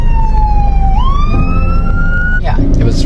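A fire engine siren wails loud and close during the Lahaina wildfire on Maui, its tone sliding and rising over a rumbling engine, with a brief burst of voices near the end.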